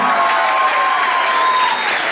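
A concert crowd at a university in Islamabad claps steadily in a dense, continuous burst of applause, fairly loud and close.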